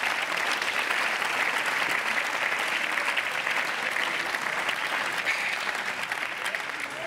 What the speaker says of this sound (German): Ich habe jetzt wahrscheinlich das erste Mal in meinem Leben auch Applaus von der ÖVP bekommen